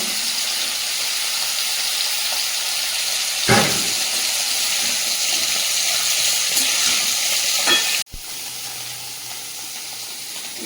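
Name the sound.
jackfruit seeds, gourd stems and potatoes frying in a pan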